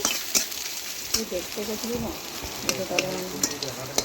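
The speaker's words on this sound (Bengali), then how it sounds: "পেঁয়াজ ভালোভাবে ভেজে নিয়েছি" Onions sizzle in a hot pan with a steady frying hiss, broken by sharp spatula clicks and stirring scrapes, while faint voices murmur in the background.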